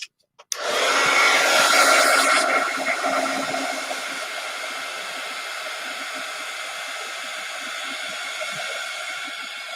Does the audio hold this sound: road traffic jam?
no